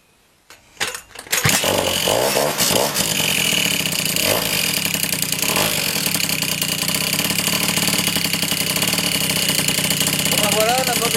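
An AV88 moped engine in a garage coughs into life after a few sputters, then settles into a loud, steady, buzzing two-stroke idle heard up close.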